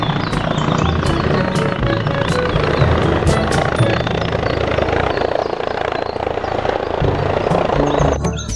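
A toy helicopter whirs continuously at close range, a steady buzzing rotor-like drone filling the whole stretch with slight fluctuations, with faint talk underneath.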